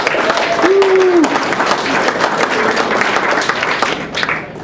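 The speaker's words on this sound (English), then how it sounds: "round of applause and welcome for Mr." A Disneyana event audience in Dayton, Ohio gives a sustained round of applause and cheering to welcome Mark Silverman, loud and dense throughout, with a brief whistle-like tone early and the clapping thinning slightly at the end.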